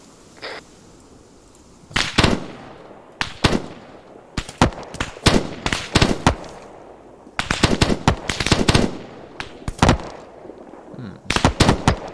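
Rapid gunfire erupts in the video game ArmA 3, sharp overlapping shots arriving in clustered bursts and volleys, loud and close, separated by short lulls.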